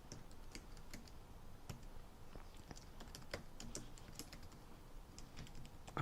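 Typing on a computer keyboard while naming a saved lettering design, a steady quiet patter of soft key clicks with irregular rhythm, close and alone, no talking.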